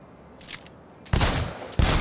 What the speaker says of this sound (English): Until your guy gets the weapon out himself and then start shooting.